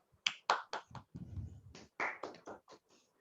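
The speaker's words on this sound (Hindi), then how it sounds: "आप सब तालियों की गड़गड़ाहट के साथ उनका स्वागत कीजिए, मिस्टर विकास झा जी का" A small audience welcoming guest Mr. Vikas Jha with a handful of sharp, scattered hand claps that come in uneven bursts, fairly quiet and with no talking.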